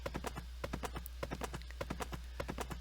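Hooves clip-clop in a quick, even rhythm as a horse is ridden in a video game, close and clear over a low steady hum.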